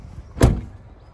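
The sliding side door of a Vantage campervan moves with a single short thud or clunk as it closes, one sharp close impact within a brief, quiet moment.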